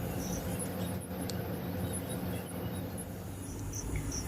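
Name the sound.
jackfruit fritters frying in hot oil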